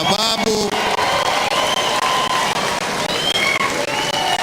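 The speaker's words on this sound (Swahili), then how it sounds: "Nataka tusimame na tumpigie makofi" A crowd stands and claps to honour a Kenyan hero, loud sustained applause with scattered cheers and whoops, and voices faintly mixed in beneath the clapping.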